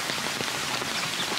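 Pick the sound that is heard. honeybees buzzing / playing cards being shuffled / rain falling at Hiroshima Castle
rain falling at Hiroshima Castle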